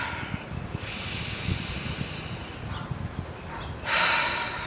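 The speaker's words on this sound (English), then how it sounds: "So close your eyes and take a deep breath with me." A slow deep inhalation and exhale, close and fairly quiet, with soft airy hiss under background noise and a fuller breath near the end.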